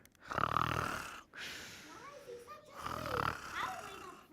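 A voice imitates loud snoring in two long rasping breaths, with softer breathy snorts in between.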